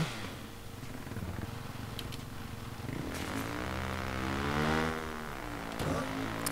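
A motorcycle engine in the video game Watch Dogs hums steadily, then revs with a rising and falling pitch before settling back to a constant drone, with no talk over it.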